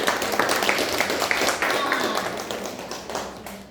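A classroom of students claps hands together in a brisk, dense burst lasting a few seconds, close and fairly loud, fading slightly toward the end.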